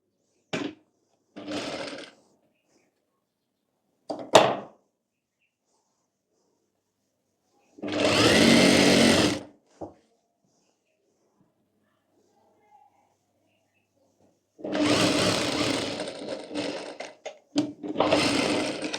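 Sewing machine stitching a ladies' night suit, several short bursts of whirring motor and needle clatter separated by silence, with one longer run near the end.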